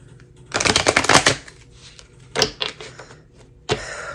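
A deck of tarot cards is shuffled up close in a fast riffling burst, then two shorter flurries of cards slapping and sliding follow after brief pauses.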